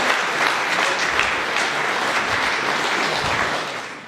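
Steady audience applause at a Nordic cultural house appreciation event, many hands clapping in a dense, even wash that fades slightly at the end, with no voices over it.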